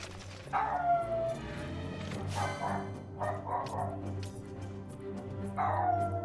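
A dog in the room lets out two sharp yelping barks several seconds apart, close and fairly loud over quiet video-game background music and effects.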